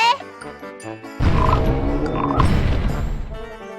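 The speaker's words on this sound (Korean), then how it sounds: "그쪽에 개구리가!" A frog croaks in an anime scene from Konosuba, with low, rough croaking rising loudly partway through over a backdrop of tonal music.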